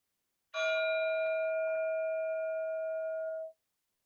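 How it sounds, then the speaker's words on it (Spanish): A single clear metallic tone strikes and rings out steadily for about three seconds, sustaining evenly before stopping abruptly, alone in silence. "Van a escuchar el gong"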